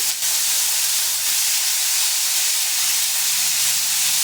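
Boiled, ground onion paste hits hot oil in a pan while cooking a fish dish, giving a steady, loud, close hiss of sizzling that runs unbroken throughout.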